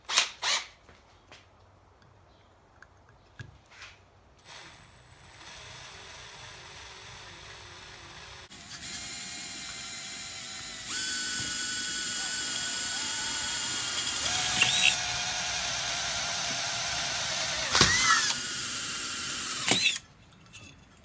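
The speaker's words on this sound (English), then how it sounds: "Now that I've got these decent sized pilot holes drilled out" A power drill bores pilot holes for a handmade keychain, its motor whining in rising, sustained bursts that step up in loudness, separated by brief pauses and small mechanical clicks, with no talking.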